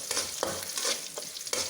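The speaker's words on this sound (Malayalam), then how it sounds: "ഇഞ്ചി, പച്ചമുളക്, കറിവേപ്പില എല്ലാം വഴന്നുകൊണ്ടിരിക്കുകയാണ്." Ginger, green chilli and curry leaves sautéing in a pan, a steady sizzle broken by regular stirring scrapes about every half second, close and clear, no voices.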